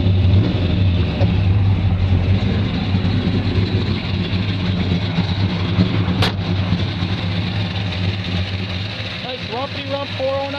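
A 1961 Chevrolet Bel Air 409 V8 rumbles steadily at idle with a deep, continuous low drone close by and a brief sharp click midway; people talk over it.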